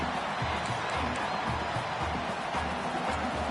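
Simulated stadium crowd at a UAB vs Oklahoma college football game in a video game, a steady, loud broadband roar that holds throughout with faint voice-like murmurs underneath.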